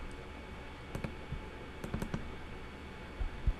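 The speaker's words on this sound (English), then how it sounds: "to change text in the template, you need to double click on the text" A computer mouse clicking on text in a Canva template, a few sparse sharp clicks including quick double clicks, quiet and close against faint background hiss.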